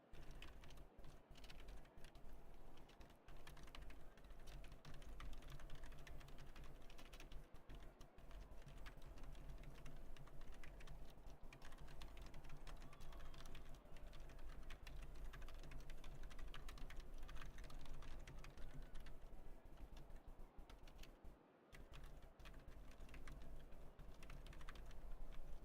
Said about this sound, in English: Y'all might hear my hammer hands typing on my membrane keyboard.